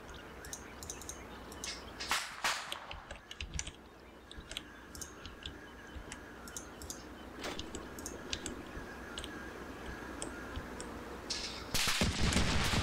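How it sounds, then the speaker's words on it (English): Tunguska fire in Combat Mission Black Sea rattles out from a tree line as scattered cracking bursts and clicks, mostly faint and distant, with a few louder shots standing out. "Definitely Tunguska fire coming from this tree line somewhere over here."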